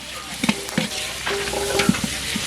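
Onions with green chilli and turmeric powder fry in oil in a pan, giving a continuous sizzle broken by a few sharp spoon scrapes and taps while being stirred.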